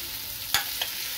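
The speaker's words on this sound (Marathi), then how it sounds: "या सगळ्यांना तेलामध्ये मी मंद आचेमध्ये परततोय" Vegetables for black pav bhaji being stirred and sautéed in oil over a low flame, giving a soft steady sizzle with two brief louder scrapes of the spoon against the pan.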